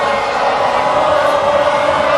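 French fans in a stadium crowd at a rugby match against Ireland sing La Marseillaise, a dense, loud, sustained wash of many voices filling the whole stretch without a break.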